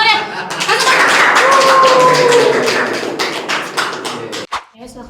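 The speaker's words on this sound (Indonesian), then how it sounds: "Tepuk tangan ya." A small crowd of students claps loudly and steadily, with a few whoops and voices over it, before the applause breaks off and a voice speaks.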